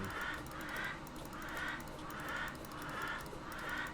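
A vulture enemy in the game Terraria dying with a duck-like squawk, repeated honking quacks pulsing in a steady rhythm of about six calls, fairly faint over a constant background hiss.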